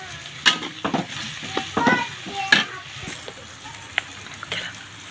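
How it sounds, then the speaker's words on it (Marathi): Masala frying in oil in a pan for egg bhurji while a spoon stirs it: soft steady sizzling under repeated sharp scrapes and clinks of the utensil against the pan, close and intermittent. "आणि मसाल्याला चांगलं तेल सुटून तर आपल्याला मसाला परतून घ्यायचा आहे"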